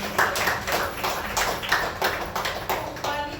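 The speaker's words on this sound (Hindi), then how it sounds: "तो इसके अंदर बहुत जोरदार तालियां" Audience at a meditation workshop on inner peace gives loud clapping, sharp rhythmic claps close by over a steady room hum, continuing throughout.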